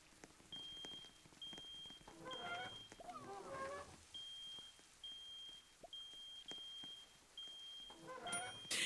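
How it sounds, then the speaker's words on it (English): A smoke alarm in a pizza restaurant video game chirps with short, high, evenly spaced beeps over a faint background, interrupted by a few brief bursts of other game sounds. "Why is the smoke alarm still beeping?"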